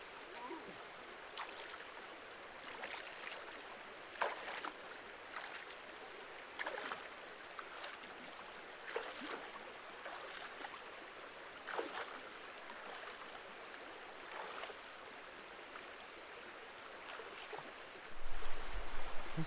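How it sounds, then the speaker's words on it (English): Flowing creek water at the Long Creek crossing on the Eagle Rock Loop trail in Arkansas, a steady rushing wash with irregular splashes as hikers wade through, a louder surge near the end. "Long Creek crossing."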